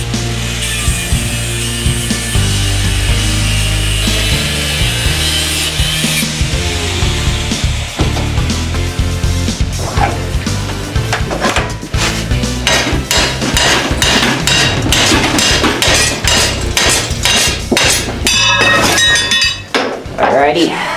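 Angle grinder fitted with a cutoff wheel slicing through a steel knife blank, a steady loud grinding whine with rasping, gritty cutting texture throughout, continuous and close.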